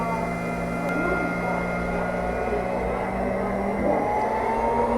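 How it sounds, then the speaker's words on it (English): An electric transfer pump running near the end of draining water from an old electric water heater, a steady loud motor hum with a rising whine toward the end, continuous throughout. "that is the sound of a transfer pump that has finished pumping"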